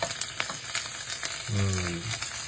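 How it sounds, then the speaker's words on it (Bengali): Chopped cabbage fries lightly in butter in a pan, giving a close, steady crackling sizzle with a few stirring scrapes, growing fuller and louder partway through. "বাটার দিয়ে এবার হালকা ফ্রাই হবে এটা"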